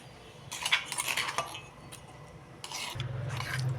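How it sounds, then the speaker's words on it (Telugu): Brinjal and tomatoes being pounded in a stone mortar for a roti pachadi chutney, giving close, uneven scraping and knocking strokes in two bursts with a low steady hum beneath. "ఇప్పుడు ఈ వంకాయ టమాటాలు కూడా మొత్తం బాగా దంచేసుకోండి"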